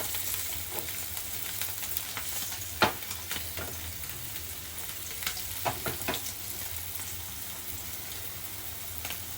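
Steady oil sizzle from mandeli fish, rawa-coated, shallow-frying on a tava, with a few sharper pops and crackles rising over the constant hiss.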